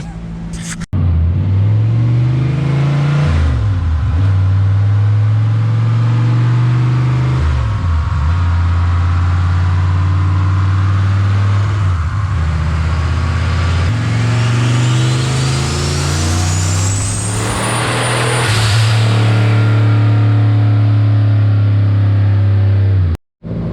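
A boosted car engine on a dyno at half throttle, droning loudly and holding steady revs with several brief dips, then rising with a climbing whine before cutting off abruptly, close and sustained.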